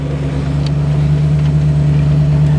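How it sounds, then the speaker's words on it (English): A barn-find Sunbeam Tiger idles with a steady, loud engine hum and a constant low drone from the pilot bearing as the clutch is pushed. "You can hear the pilot bearing noise change when I push the clutch."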